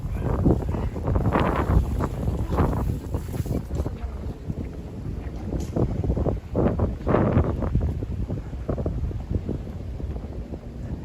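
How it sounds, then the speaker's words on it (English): Strong gusty night wind at Sunny Isles Beach, Miami, buffets the microphone in heavy rumbling surges, loud and continuous throughout. "Very windy so far. Very windy tonight."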